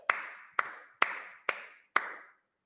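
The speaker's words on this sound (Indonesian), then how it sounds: "tepuk tangan 5 kali" Hand clapping in a kindergarten lesson, five crisp, evenly spaced claps about half a second apart, each with a short ringing decay, close and alone without talk.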